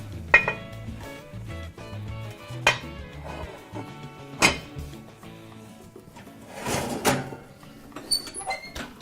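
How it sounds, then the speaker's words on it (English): Metal lids set back onto sourdough bread baking pans, several separate clanks and clinks spaced a couple of seconds apart, with scraping and handling noise between them in a quiet kitchen. "the lid goes back on"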